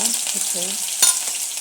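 Sliced onion fries in oil in a pan, a close, lively crackling sizzle with stirring scrapes and a brief louder clatter midway, continuous throughout the short moment with no talk.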